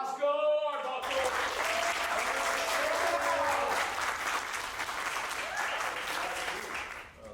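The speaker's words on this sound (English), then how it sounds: "Last time I had that many people clapping for me in one place" Audience applause for Roscoe Arbuckle at a filmmaker celebration, a dense, steady wash of clapping that bursts in suddenly after a brief opening sound and holds loud for several seconds before easing slightly at the end.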